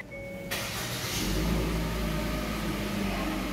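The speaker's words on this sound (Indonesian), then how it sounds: "Oke, kalau gitu saya nyalakan mesinnya ya." A 2022 Hyundai Stargazer Prime starts up with a brief electronic chime, a sudden crank and catch at about half a second, then a steady idle hum that settles in close by.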